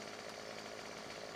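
Chainsaw running steadily in the video game Farming Simulator 17, a continuous buzzing engine drone at even volume with no talk over it.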